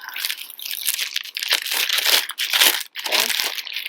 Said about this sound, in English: Sorry for all the rustling sounds.